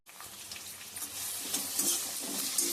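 Onions fry in oil with cumin, crushed garlic and green chillies, giving a steady broadband sizzle that grows slightly louder and crackles more toward the end, with no one talking.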